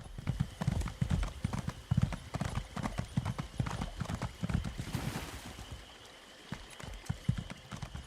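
Horse hooves clop in a quick, galloping rhythm in the video game The Elder Scrolls Online, loud and close, with a brief neigh-like sound and faint talk underneath at times.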